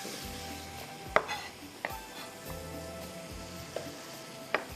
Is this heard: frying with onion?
yes